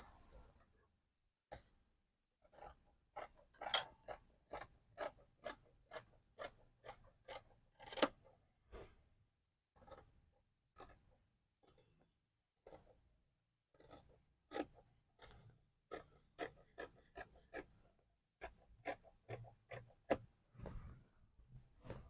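Scissors snip steadily through shirt dress collar fabric, a long run of crisp, evenly spaced cuts close by, fairly faint with short pauses between groups.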